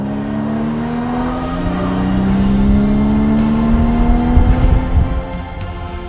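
Porsche Cayman GTS engine on a kick-down, a steady rising drone swelling into a louder, gruff rev with rumbly bursts before easing off, heard from inside the car without talking.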